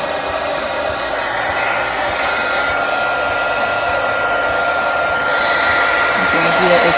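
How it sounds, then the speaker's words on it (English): A heat gun sealing a patched vinyl wrap blows with a steady, loud, close airy roar that holds unbroken throughout. "I'm just gonna hit it once with the heat gun"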